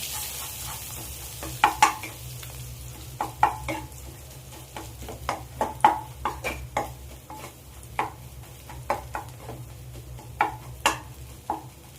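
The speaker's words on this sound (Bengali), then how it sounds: "ডিমটা আমার ভাজা হয়ে গেছে" Egg with salt and pepper stirred in a pan, a faint sizzle under repeated sharp scrapes of a spatula against the metal, spaced irregularly and fairly close.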